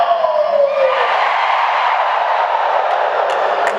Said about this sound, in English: Can I hear a cheer?